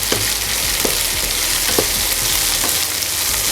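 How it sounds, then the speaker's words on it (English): Spices for a mutton curry crackle and sizzle as they roast in a pan, with steady frying noise and occasional soft stirring clicks, close and continuous. "Roasting the spices before grinding it gives a very good flavor to your curry"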